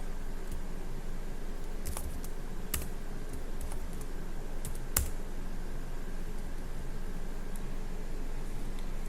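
Typing on a computer keyboard while writing code, with scattered light key clicks and a few sharper taps over a steady low hiss, close and quiet.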